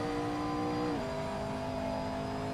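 A race car engine in a sim racing video game drones at steady high revs, then its pitch drops abruptly in a quick upshift and holds at the new, lower tone, loud and close.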